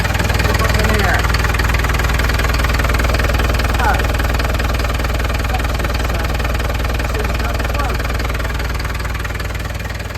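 A Landini tractor engine runs steadily after starting, a loud continuous low idle with a knocking, vibrating mid-range rumble that holds nearly level throughout.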